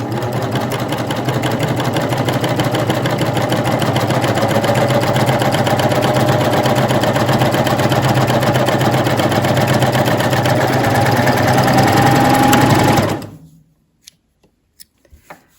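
A coverstitch machine set for a wide cover stitch sews fabric in a loud, steady, fast mechanical whir with no pauses, then stops abruptly, leaving a few faint clicks.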